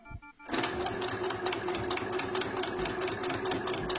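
A sewing machine stitches fabric along the presser foot, starting abruptly and then running in a loud, steady, close rattling whir with a fast rhythmic stitch pulse throughout.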